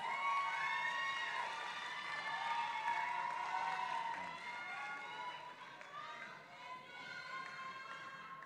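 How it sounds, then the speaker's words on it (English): Pageant audience at Miss & Mister Supranational Namibia claps and cheers for the finalists, with dense, steady applause, shouts and whoops running throughout and easing slightly toward the end. "round of applause, please, for our finalists"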